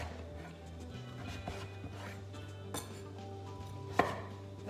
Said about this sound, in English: we're going to cut this in half and then cut this into 2-inch strips